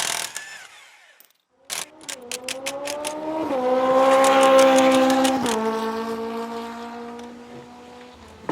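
A GMC motorhome engine rumbles as the vehicle is driven up to a driveway, its tone climbing in steps through gear changes, loud and close after a brief quiet start.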